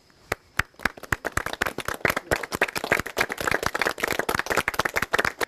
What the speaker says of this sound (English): may I applaud to you